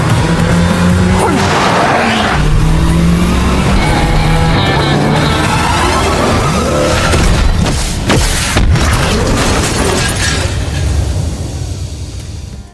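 A car speeds through a tunnel during a film chase with police, engine roaring loudly and continuously, tires skidding and thuds booming throughout the dense, heavy mix.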